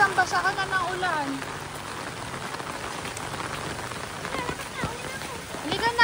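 Steady rain pours down in a continuous hiss over floodwater on a Philippine farm at night while a woman calls out loudly over it, her voice close and urgent.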